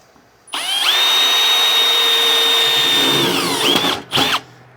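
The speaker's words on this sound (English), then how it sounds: "So you just drill your center point." A power drill whines loudly at a steady pitch for about three seconds while drilling a center hole, winds down, then gives a short second burst.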